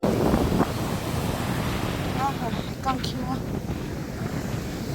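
Waves wash onto a sea shore under heavy wind buffeting the microphone, a constant loud rush close by, with a few spoken words and a brief high whistle-like tone partway through.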